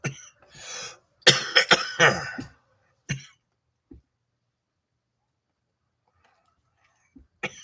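A burst of harsh coughing close by, several rapid coughs in a cluster, then a single cough and long quiet with a faint throat noise.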